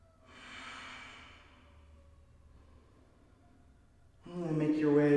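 Soft, slow breathing in a yoga child's pose, a gentle exhale swelling and fading near the start, followed by quiet room tone, then a louder voice cuts in at the end.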